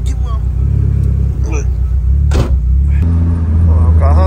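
A Nissan S14's engine rumbles nearby with uneven revs and stumbling misfires, broken by sharp exhaust bursts, while people talk over it.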